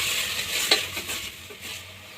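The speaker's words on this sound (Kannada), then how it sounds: "ಹಾಕಿ 2 ನಿಮಿಷ ನೀಟಾಗಿ ಮಿಕ್ಸ್ ಮಾಡಿ" Pieces of mutton boti fry in a pan under a steady, close hiss of oil, with a spatula scraping and one sharp tap against the pan.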